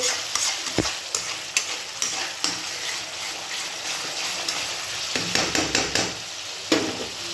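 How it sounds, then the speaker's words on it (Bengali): Ginger, garlic and tomato paste fried with turmeric, Kashmiri chilli, chilli and cumin powder for prawn curry, a loud broad sizzle with regular spatula taps and scrapes against the pan. "আদা রসুন টমেটো বাটা আর তার সঙ্গে হচ্ছে হলুদ কাশ্মীরি লঙ্কা এমনি লঙ্কা জিরে গুঁড়ো দিয়ে ভালো করে এটাকে কষাবো"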